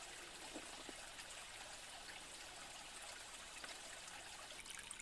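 A small stream trickles through a narrow forested gorge, a faint, steady babble of water heard from a distance with no voices.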